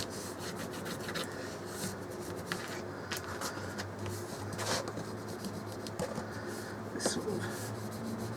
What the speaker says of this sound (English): I run my foam folder